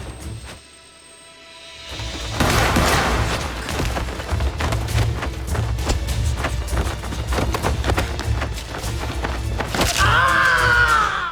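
A film gunfire exchange in a parking area: after a quiet opening, a dense stream of sharp shots and booming reports crackles back and forth, loud and continuous. A rising tonal sound enters near the end.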